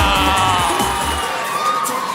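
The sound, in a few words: audience yelling and cheering for a performer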